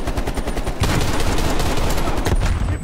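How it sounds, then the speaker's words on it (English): A heavy machine gun in Call of Duty Black Ops Cold War fires a dense, continuous burst, loud and close, with rapid overlapping shots that barely pause. "Got that heavy MG."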